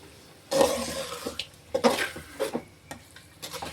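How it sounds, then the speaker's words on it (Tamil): Egg stirred in a pan over a low flame, giving a series of soft scraping and clinking strokes at close range, some louder than others, with short pauses between. "இப்போ இதை வந்து நம்ம கொஞ்சம் அடுப்பை குறைச்சி வச்சுக்கிட்டே கிண்டுவோம்"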